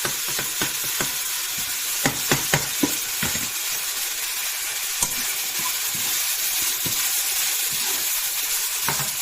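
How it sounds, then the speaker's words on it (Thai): Blanched beans fry in a pan with a constant hiss of sizzling oil, punctuated by clustered clicks and scrapes of a utensil stirring them, close up with no talking. "ใส่ถั่วที่เราลวกเอาไว้แล้วลงไปเนี่ย"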